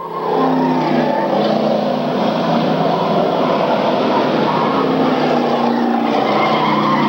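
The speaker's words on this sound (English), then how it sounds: "3, Brian Constantine, and 33, Jim Dunham as they go back into turn 1 in that battle for first spot" Stock cars racing around a track during a 1994 feature event, a dense, steady roar of several engines at full throttle filling the whole stretch without letup, with no one talking over it.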